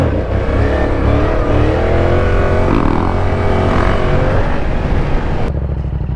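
A powerful sport bike engine roars and revs hard close by, loud and sustained with rising and falling pitch, then cuts off abruptly near the end; no talking.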